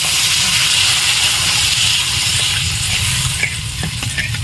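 A loud, steady hiss and sizzle rises as water hits fried spice paste with poppy seed in a hot pan, close and continuous with faint bubbling underneath.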